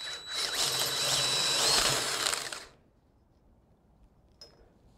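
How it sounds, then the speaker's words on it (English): A power drill whirs loudly and steadily for about two and a half seconds while fitting seat belts to a dune buggy sand rail, then cuts off, leaving near silence with one faint click. "Gonna have to go to drill."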